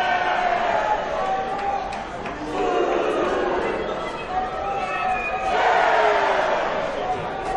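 A wrestling crowd at a Shelton Benjamin versus Darin Dinero match roars and cheers in waves, swelling loudly twice, with a commentator talking over the arena noise.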